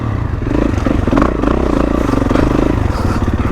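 A 2024 Kawasaki KX450 dirt bike engine runs close and loud, a continuous throaty drone with slight revving surges and some mechanical clatter.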